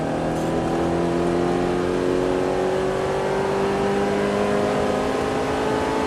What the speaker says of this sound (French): Allez, on accélère à fond maintenant.